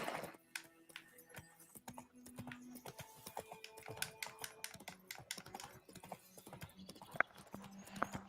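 Horse hooves gallop in a steady clip-clop rhythm in the video game The Witcher 3, close and fairly quiet, with light clicking from a computer keyboard mixed in.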